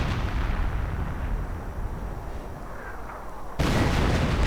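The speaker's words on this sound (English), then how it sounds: "And there we go, 25-pounder gun right here on this nice target." A 25-pounder artillery gun fires in a World War II strategy video game, with a steady loud roar of battle before a heavy boom bursts in near the end.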